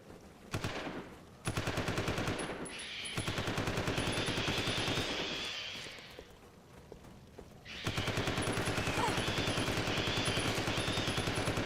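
Automatic gunfire from the video game Resident Evil 0 rattles in long, rapid bursts, loud and close, with short pauses between volleys.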